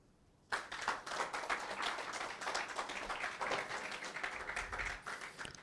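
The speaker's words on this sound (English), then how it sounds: "I'd like us to applaud Mr. Abdulrahman Diallo" An audience bursts into applause at the launch of a year-long highlife music centenary celebration, starting abruptly and holding as a dense, lively wash of many hands clapping, with sharp individual claps standing out near the microphone.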